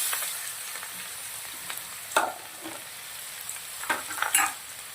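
Chopped onion sautés with garlic, ginger, green chillies and fresh curry leaves, making a quiet hissing sizzle with a few sharp stirring scrapes and clinks, close and without any voices.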